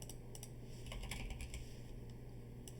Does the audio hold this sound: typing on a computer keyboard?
yes